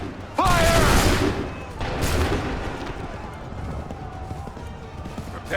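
Musket volley fired on command in Assassin's Creed 3, a loud burst of overlapping shots followed by rumbling battlefield noise, with shouting voices over the top.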